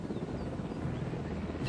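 Helicopter in the video game Jurassic World Evolution, a steady, close rotor roar filling the whole short moment.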